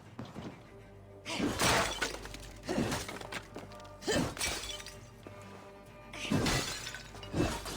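Clay oil jars smash in Assassin's Creed Valhalla: four or five sharp shattering crashes spaced a second or so apart, each a bright burst of breaking pottery over a low game soundtrack.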